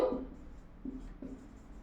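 Pen writing on paper during a maths lesson, a few short faint scratching strokes in quiet surroundings, with no talk.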